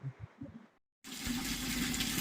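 Water gushes from a tap into a vessel: after a few brief soft knocks and a moment of silence, a steady, fairly close stream of filling water runs on evenly.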